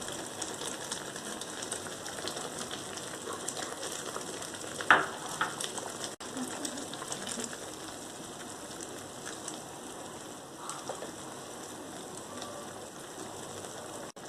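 Ground pineapple with sugar being cooked and stirred in a pan for pineapple kheer: a soft, steady sizzle and hiss with occasional scraping stirs, faint and close, without talk.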